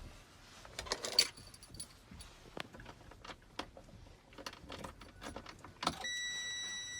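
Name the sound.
truck ignition key turned on, dashboard starting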